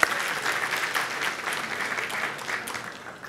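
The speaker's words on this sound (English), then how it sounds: "if we could just do a quick round of applause for MLSLI" A room full of people clapping steadily, a warm sustained round of applause that swells slightly and then starts to taper.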